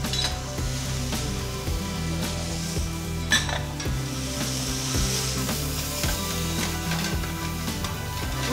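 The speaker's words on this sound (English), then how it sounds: "So just sweat off the leeks for a little bit?" Leeks sweating in a pan for an Italian Gorgonzola pasta, stirred with steady scraping and clinking of a utensil against the pan over a soft continuous sizzle, close and moderately loud with no talk.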